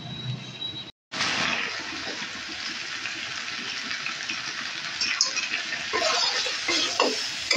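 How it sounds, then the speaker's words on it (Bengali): Pea ghugni masala stir-fried with a splash of hot water, a loud steady sizzle and bubbling after a brief silent gap, with spatula scraping growing busier toward the end. "অল্প করে গরম জল দিয়ে আমি আবারও কিন্তু এটাকে কষিয়ে নেব।"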